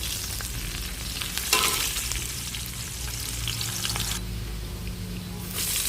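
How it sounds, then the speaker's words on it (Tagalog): Garlic dropped into hot oil in a wok sizzles steadily and loudly throughout, a dense broadband frying hiss with a brief spike of spattering near the start and small clinks. "Ayun, may mantika na yung kawali. Yun, mainit na. Maglagay na ako ng bawang."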